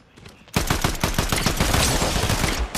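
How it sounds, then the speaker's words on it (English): Warforged assault rifle from Fortnite firing a sustained automatic burst after a brief quiet lead-in, loud and close with rapid evenly spaced shots and no talking. "Warforged assault rifle just sounds like it's like hits hard"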